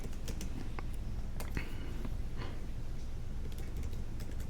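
Rapid typing on a computer keyboard during a coding session, with quiet, irregular clicks and key taps over a low room hum, fairly close and steady throughout.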